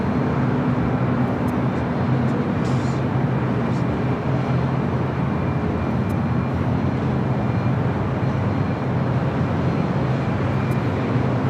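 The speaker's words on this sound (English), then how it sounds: "That was the United Dreamliner, which I thought was going to head to the north side. It decided to land on the south side." A United Boeing 787 Dreamliner landing at LAX, heard as a steady, loud broadband jet roar that holds throughout without letting up.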